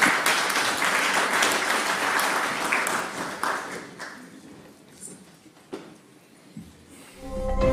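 Loud, dense applause from a conference audience welcoming Augustin Matata Ponyo, honorary Prime Minister of the DRC, fills the first few seconds, then thins out into scattered claps and tapering taps.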